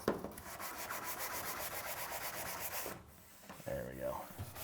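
A sanding sponge scrubs a baseboard heater in quick, rhythmic back-and-forth strokes, close and steady, pausing briefly before a few more rubbing passes.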